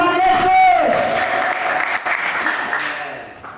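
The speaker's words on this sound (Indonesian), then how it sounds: "Beri tepuk tangan yang terbaik buat Tuhan Yesus." A church congregation claps during a sermon, loud at first and then fading, with voices and shouts mixed into the applause throughout.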